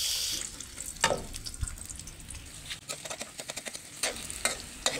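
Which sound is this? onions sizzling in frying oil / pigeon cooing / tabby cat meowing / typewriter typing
onions sizzling in frying oil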